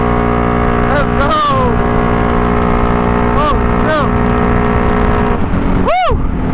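A four-wheeler ATV with an 850 engine rides steadily along on the way to a gas station, its engine drone continuous and loud with pitch rising and falling as the throttle shifts.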